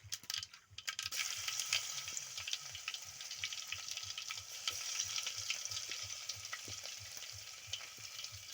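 Garlic and curry leaves fry in hot oil with a constant bright crackling sizzle, steady and close, with a low rhythmic pulsing underneath and occasional light stirring, no voices.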